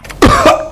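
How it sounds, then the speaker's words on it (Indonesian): Repeated harsh coughing from a young man in an animated drama about smoking, three bursts close and loud with brief gaps between them, no talk. "Batuk terus dari tadi."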